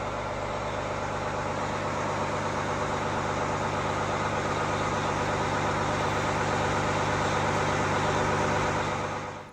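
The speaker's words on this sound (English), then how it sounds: "You can rev it up a little bit so it'll build air a little faster." A truck engine held at high idle to build air-brake pressure, a steady loud diesel drone with a constant low hum, running unbroken for about nine seconds with no talking.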